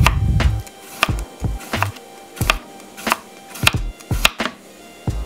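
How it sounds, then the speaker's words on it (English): A knife slices cucumber on a cutting board for Bajan souse, giving a quick series of crisp, evenly spaced chopping taps close by with no talking. "slice up your cucumber,"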